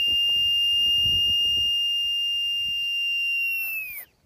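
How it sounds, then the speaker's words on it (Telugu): A breathing apparatus set's low-pressure warning whistle sounds as the cylinder drops below 50 bar: one shrill, steady, piercing tone that holds for about four seconds and then cuts off abruptly. "ఎప్పుడైతే ఇక్కడ ఉన్న ప్రెషర్ 50 బార్స్ కంటే తక్కువ వచ్చిందో అప్పుడు మనకు ఆ విజిల్ సౌండ్ వచ్చింది."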